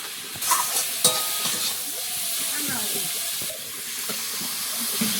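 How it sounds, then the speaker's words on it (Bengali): Spice masala of tomato, salt, turmeric, cumin, coriander and chilli powder sizzles and hisses in a pan for a fish head curry, with scraping stirs and a few sharp clinks against the metal, close and steady. "সামান্য একটু জল দিয়ে মশলাটা কষিয়ে নেব।"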